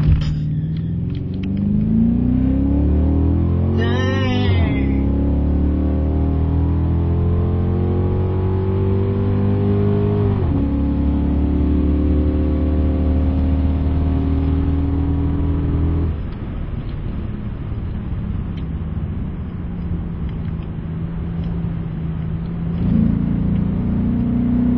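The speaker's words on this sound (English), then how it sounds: "Nothing like two LXs running down the quarter mile" Two Ford Mustang LX cars race down a quarter-mile drag strip, engines roaring loudly as they climb through the gears with several distinct shifts, a droning rumble holding steady between each surge.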